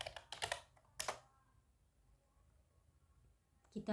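Keystrokes on a computer keyboard as a command is entered, a quick cluster of clicks followed by a single firm tap, then quiet and another burst of keys at the end, moderately close.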